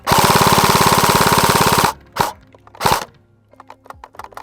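A Krytac FN P90 airsoft replica fires a loud, rapid full-auto burst of BBs for about two seconds, then falls silent, followed by two sharp mechanical clacks and a few faint clicks.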